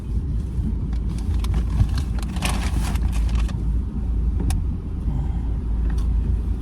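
A car idles or rolls close by, a heavy low rumble that stays loud and steady, with a few faint clicks and knocks over the top and no talk.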